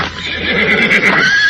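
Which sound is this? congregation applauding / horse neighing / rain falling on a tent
horse neighing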